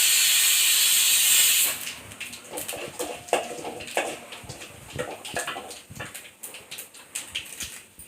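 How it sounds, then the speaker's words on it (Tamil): A pressure cooker of spinach vents a loud steady hiss of steam for under two seconds, then it stops and scattered clinks and kitchen clatter follow. "கீரை 3 விசில் வந்துருச்சு, ஆஃப் பண்ணிடலாம்."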